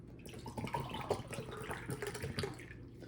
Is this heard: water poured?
yes